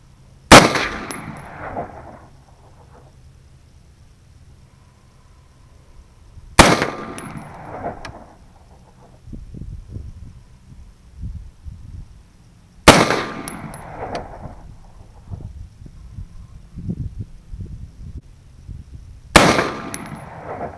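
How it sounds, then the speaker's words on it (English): Four sharp rifle shots from a 5-round string fired at a 100-yard target, each a loud crack followed by a ringing decay, spaced about six seconds apart with quiet handling noise in between. "we'll go back and we'll shoot another 5-round string"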